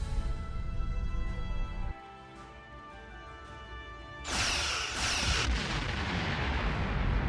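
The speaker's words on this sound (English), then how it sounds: "Target that ship, and fire all weapons!" Starship weapons fire in the Star Trek Online space battle: a loud, dense burst of blasts and booms erupts partway through, over a continuous tonal game score, then sustains roughly to the end.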